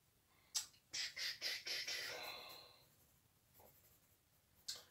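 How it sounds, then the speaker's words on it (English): Pencil strokes scratching across paper while sketching a boxing punch figure, a quick run of short rhythmic scribbles followed by a longer stroke and a couple of isolated marks, close and fairly quiet. "Let's go ahead and pencil the rest of this."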